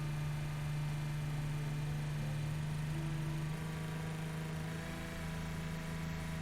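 Steady engine drone of a car cruising around town in the BeamNG driving game, with a sporty tuned exhaust in third or fourth gear near 3,200 rpm, an even continuous hum with no pauses.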